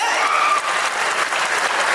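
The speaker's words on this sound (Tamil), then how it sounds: "ஒரு நல்ல ஒரு கைத்தட்டலை கொடுத்துருங்க அவங்களுக்காக" Audience applause at a movie meet-and-greet, a dense and steady burst of clapping from a crowd that holds at full volume for about two seconds.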